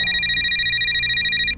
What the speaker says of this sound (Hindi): इतने में ही इंस्पेक्टर राजवीर के फोन पर एसपी साहब का कॉल आया।